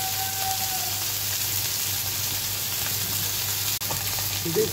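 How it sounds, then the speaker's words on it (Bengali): Steady, close sizzling of small river baila fish frying in hot oil and being flipped, a continuous crackling hiss with a brief clink near the end. "দু পাশটাই আমি এভাবে উল্টে পাল্টে দিয়েছি। দেখুন বাইলা মাছগুলো খুব সুন্দরভাবে আমার ভাজা হয়েছে"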